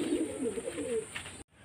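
A pigeon coos close by, a short rolling phrase of low throaty notes lasting about a second before cutting off into quiet.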